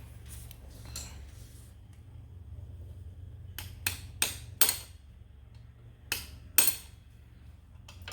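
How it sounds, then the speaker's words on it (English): Several sharp metallic taps from a hammer on a metal part, fitting a hydrostatic transmission into a John Deere Z920M mower, ring out in a quiet space, spaced irregularly, a couple close together, over a low steady hum. "let me get a hammer to tappy tap"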